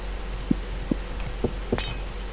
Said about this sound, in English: It literally sounds like you're breaking a vase.